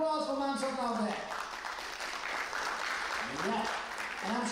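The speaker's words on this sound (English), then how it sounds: "We need to give a loud applause for Sapna over here." Audience applauding at a fashion and music event, a dense steady patter of clapping that carries on throughout, with a voice speaking over it at the start and again near the end.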